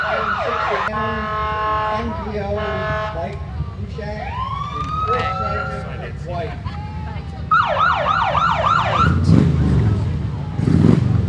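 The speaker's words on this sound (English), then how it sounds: "waving at the motorcycle officers as they come up the road to start the parade" Police motorcycles come up the road with wailing, yelping sirens to open a Fourth of July parade in South Norfolk, loud and close over a steady crowd murmur, with engine rumble rising near the end.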